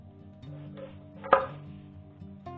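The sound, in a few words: knife cutting rosemary sprigs into segments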